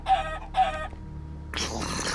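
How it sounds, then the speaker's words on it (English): Two short clucks from a chicken jockey in Minecraft Project Ozone 2, spaced about half a second apart, followed by a burst of broadband game noise. "Chicken jockeys are unusual, but not unheard of."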